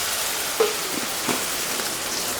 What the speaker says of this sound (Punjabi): ਤੇ ਹੁਣ ਆਪਾਂ ਇਹਦੇ ਵਿੱਚ 1 ਚਮਚਾ ਜਿਹੜਾ ਅਦਰਕ ਲਸਣ ਦਾ ਪੇਸਟ ਪਾ ਦਿੰਦੇ ਹਾਂ ਇਸ ਨੂੰ ਵੀ ਆਪਾਂ ਚੰਗੀ ਤਰ੍ਹਾਂ ਭੁੰਨ ਦੇਣਾ ਹੈ